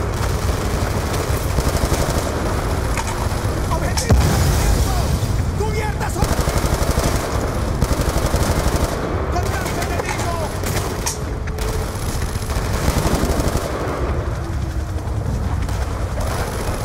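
Heavy machine gun fire in the video game Call of Duty: Black Ops 2, a bunkered gun on a balcony, sustained and dense throughout with sharp bursts and a louder blast near the middle, amid battle noise.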